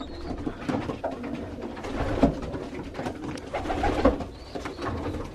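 Young racing pigeons coo in a loft, a layered chorus of soft rolling calls from several birds overlapping steadily, with wing flutters and shuffling mixed in close by.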